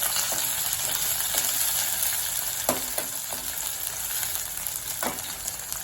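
Chopped onion goes into hot oil with crackling cumin and mustard seeds, giving a steady close frying sizzle broken by a few sharp spoon scrapes and taps against the pan.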